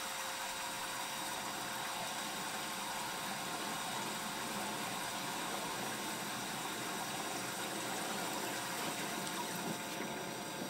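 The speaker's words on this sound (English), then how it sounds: "you just let the water recirculate for a moment as it heats it up" A steady, loud mechanical hum of a water pump recirculating water through a portable gas water heater runs continuously with rushing, churning water, unchanging throughout.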